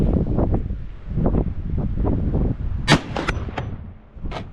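A .458 SOCOM AR-15 rifle firing 325-grain FTX handloads with IMR4198 powder outdoors: a single loud, sharp report with a short echo, over gusty wind noise on the microphone.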